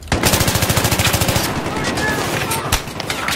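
An AEK assault rifle in the game Battlefield 3 fires a rapid, loud automatic burst up close, followed by more scattered gunfire and game noise, with a voice partly under it.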